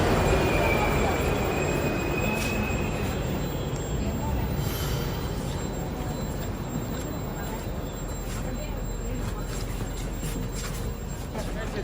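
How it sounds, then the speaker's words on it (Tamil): A Tashkent metro train pulls into an underground station with a loud, steady rolling rumble and faint wheel squeals, filling the platform with continuous noise. "ஸோ அந்த ட்ரெயினும் வந்துருச்சு வாங்க."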